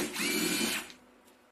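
Screws being removed from an old car alternator with a power tool, which gives one short, close whirring burst lasting under a second before dropping to quiet.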